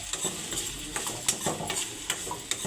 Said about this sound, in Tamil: இப்போ வெண்டைக்காயை போட போகிறேன். எண்ணெயில் கொஞ்சமாக வதக்கி உப்பு போட்டு கொஞ்சம் வதக்கி எடுத்துடணும்.